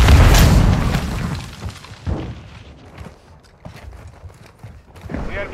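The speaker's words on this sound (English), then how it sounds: "Cluster mine deployed." Cluster mine blast in Call of Duty Modern Warfare 2 multiplayer, a loud deep boom opening and rumbling off, followed by scattered smaller thuds and impacts amid ongoing game noise.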